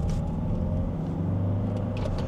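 A used Volvo V70 third-generation 2.0 diesel with 350,000 km on it accelerates, its engine giving a steady, droning low rumble heard from inside the car, with no one speaking.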